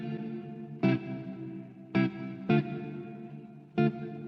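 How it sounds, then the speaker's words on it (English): A guitar played through a Free The Tone Ambi Space reverb pedal on its Hall preset: four sharp picked chords at uneven intervals, each blooming into a long, shimmering wash of reflections that sustains between strikes. "That's what the reverb is doing."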